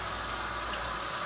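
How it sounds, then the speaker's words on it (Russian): Cold tap water runs steadily and splashes over salted fish being rinsed in a sink, a continuous close hiss of flowing water with no pauses. "поэтому я ее промываю водой холодной"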